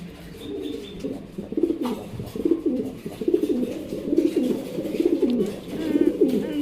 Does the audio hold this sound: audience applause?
no